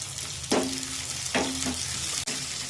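Onions sizzle steadily in a hot pan while cooking for pesara pappu, a Telugu moong dal dish, with a few louder stirring scrapes and a soft clunk over the constant frying hiss.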